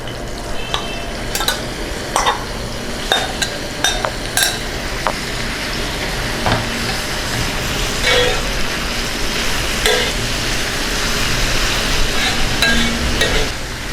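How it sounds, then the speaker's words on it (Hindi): Meat frying in ghee on a hot tawa griddle for tawa tikka masala boti, a loud continuous close sizzle with repeated scraping and stirring clinks of a utensil against the metal. "इसको भूनेंगे इसी तरीके से तवे के ऊपर।"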